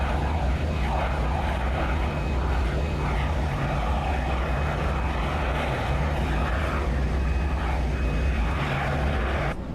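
Engines of a former Pan Am Boeing 747SP, the NASA SOFIA flying telescope, run steadily after engine start, a loud continuous roar and hum with no pauses throughout.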